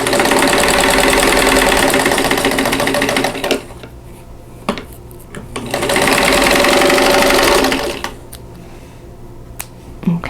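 A sewing machine stitches along a diagonal line across a quilt block corner in two loud, rapid bursts of rhythmic mechanical chatter, with quieter clicks and fabric handling between them.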